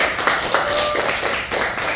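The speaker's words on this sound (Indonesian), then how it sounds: "Oke, tepuk tangan dulu untuk semuanya." A classroom of students clapping together, a steady wash of overlapping hand claps that fills the whole stretch without a pause, with a little speech mixed into it.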